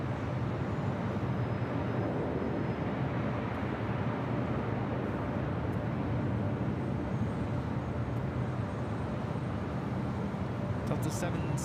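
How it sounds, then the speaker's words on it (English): An Air Canada Boeing 737 MAX 8 arriving from Vancouver lands at LAX, a steady broad jet roar held evenly throughout, fairly loud, with no gaps. "This is Air Canada 554 coming in from Vancouver on a MAX 8."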